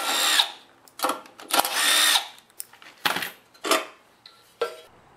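Tools click and rattle up close while two 10mm nuts come off the carburetor cover of a lawn tractor that starts and dies, in several short, sharp ratcheting bursts separated by brief pauses.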